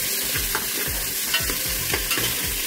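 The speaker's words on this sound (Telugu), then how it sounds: "ముందుగా కట్ చేసి పెట్టుకున్న ఆనియన్స్ని ఇందులో వేసానండి. దీన్ని కొంచెం ఇలా మగ్గుతాం." Chopped onions sauté in hot oil in a pressure cooker. A spoon stirs them in a steady rhythm, scraping and tapping over a soft, continuous sizzle heard up close.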